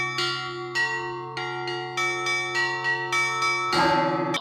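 A church bell rings in a steady series of clear, resonant strikes, each one ringing on with long overtones, before a cluster of overlapping strikes builds near the end.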